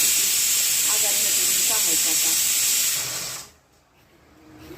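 A pressure cooker steadily hisses steam while dal and rice cook for an evening meal, a loud continuous hiss that suddenly cuts off, leaving near silence, with faint voice-like sounds underneath.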